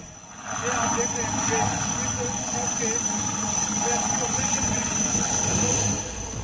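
An army helicopter lifting a body out of a flood-hit area in Uttarakhand, its engine and rotor a steady, loud drone with a faint rhythmic pulse for most of the clip, fading slightly at the end.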